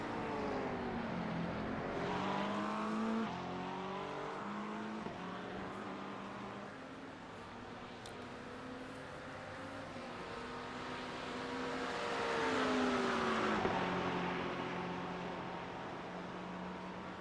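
A Porsche GT3 race car engine screams around Hockenheimring in a sim race, its pitch sweeping up and down through gear changes, fading slightly mid-clip before swelling louder again as it passes close.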